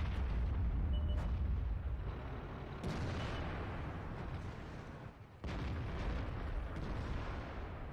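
A 140 mm tank cannon on a Type 5 Heavy fires in World of Tanks, producing two heavy booms a few seconds apart, each followed by a rolling, decaying rumble beneath low background noise.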